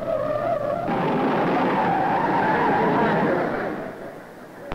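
A 1950s race car at the Indianapolis Motor Speedway skids and spins, a loud, sustained tire screech with engine drone that swells and then fades after a few seconds.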